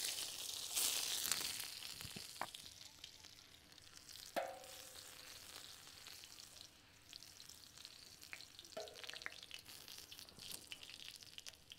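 Garlic sizzles in oil on a tawa griddle for tandoori kaleji masala, making a soft, steady frying hiss. Occasional clinks and scrapes of a utensil break up the sizzle, and there is no talking.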